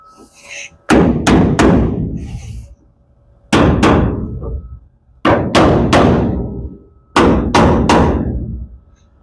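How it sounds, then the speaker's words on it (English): Hammer blows on metal come in four clusters of two or three sharp, ringing strikes, each followed by a decaying clang, loud and close. "I think just a little bit of hammering."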